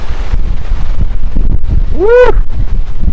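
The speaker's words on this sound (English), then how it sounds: "Here comes another good gust right through." A strong gust of wind roars through a trail in a dust storm in Boise, Idaho, buffeting the microphone with loud, continuous rumbling while a man whoops over it.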